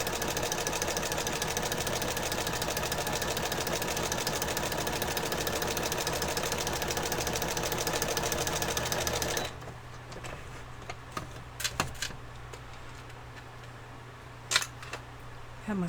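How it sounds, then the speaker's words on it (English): A sewing machine stitches steadily around the edge of a fabric journal cover for about nine seconds, a dense continuous whir, then stops, leaving quiet room noise with a few small clicks and handling sounds. "I guess it's best to sew around the edge first"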